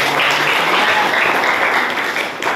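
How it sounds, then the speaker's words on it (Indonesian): Audience applause at a school class event, a steady wash of many hands clapping, loud and sustained for a few seconds before easing slightly near the end. "izin memberikan aplaus dulu buat Kang Rehan"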